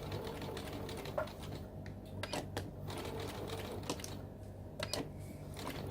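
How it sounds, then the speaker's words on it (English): A sewing machine stitches a fabric bookmark, making a faint, quiet whir with soft, irregular mechanical clicks. "you're actually going to stitch 1/4 inch with your needle in the down position"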